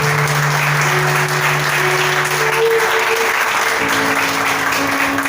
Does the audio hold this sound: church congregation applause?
yes